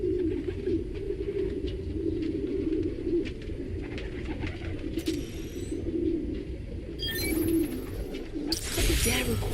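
Pigeons coo steadily in a park setting from the game Spider-Man: Miles Morales, a low rolling murmur throughout with brief higher chirps and ambient noise near the end.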